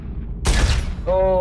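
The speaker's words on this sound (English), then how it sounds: "Oh, I'm getting sniped." A burst of sniper gunfire in a capture-the-flag video game, a loud broadband crack lasting about half a second, followed by a sustained tonal ring.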